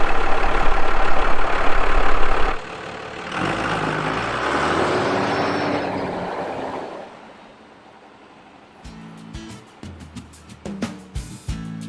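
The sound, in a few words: stuck truck engine powering out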